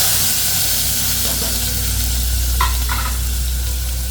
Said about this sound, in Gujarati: તેલ ગરમ થઈ જાય ત્યારે ટમેટું, ડુંગળી અને લીલા મરચાં એડ કરી દેવા